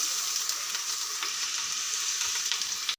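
Potatoes and chickpeas fry in oil in a pot, giving a steady, loud sizzle with faint stirring scrapes throughout and a brief knock at the very end.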